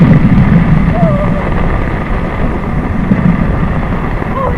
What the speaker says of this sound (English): Wind's coming from this direction out here.